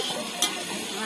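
Onions sizzle and are stirred in a pan with salt while cooking masala, giving a short, close burst of steady frying hiss with a quick scrape partway through.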